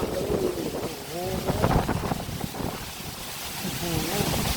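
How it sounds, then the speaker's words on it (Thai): Strong gusting wind buffets the microphone outdoors before a rainstorm, with a steady roaring rush throughout, while someone talks excitedly over it. "ลมแรงจริงๆน่ากลัวมากเลย"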